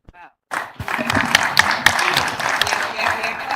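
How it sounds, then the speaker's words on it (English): Audience applause at a high-level dialogue event in Kigali, Rwanda, starting abruptly after a short voice and continuing as close, uneven clapping with scattered sharp individual claps. "We're clapping already."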